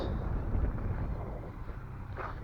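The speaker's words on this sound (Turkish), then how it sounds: "Aşırı rüzgar var." Strong wind over a cornfield buffets the microphone in a continuous low roar, gusting steadily throughout with no voices.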